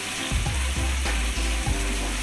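Crushed tinned tomatoes heating and bubbling in a pan, a steady close sizzle with a few scraping, knocking stirs and no talking.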